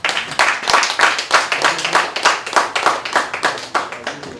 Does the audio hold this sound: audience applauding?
yes